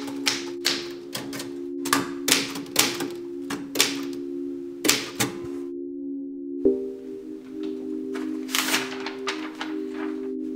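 Keys strike a typewriter in uneven bursts of sharp clacks, with a steady hum beneath and a bell-like ding midway, close and alone without voices.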